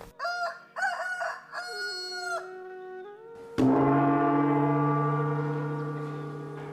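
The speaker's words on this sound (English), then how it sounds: "It is said that the rooster crow heralds the coming of the dawn" A rooster crows several times at a Tibetan Buddhist school for nuns in Mavsala, a series of near, loud calls, followed by a long, steady ringing tone like a bell or singing bowl that slowly fades.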